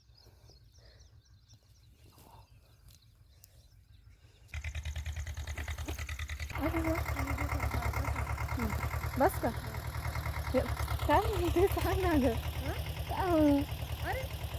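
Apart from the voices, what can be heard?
tractor engine running in a farm field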